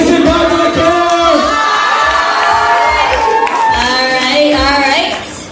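Crowd at a debutante's 18th birthday grand entrance cheering, shouting and whooping with scattered clapping, a loud, continuous wash of voices close around.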